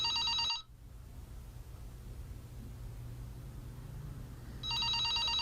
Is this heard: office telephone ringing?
yes